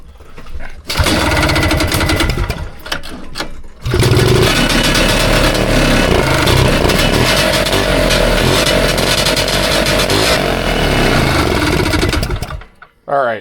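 A Lotus Elan car engine runs after a carburetor swap, loud and close: a short burst, a pause, then a long sustained rough idle and revving that cuts out abruptly near the end.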